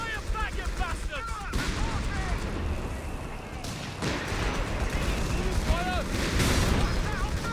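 Battle in the WW2 strategy game Company of Heroes 3, with tanks firing on troops: steady, dense gunfire and heavy booms roll on throughout, while voices shout over the din.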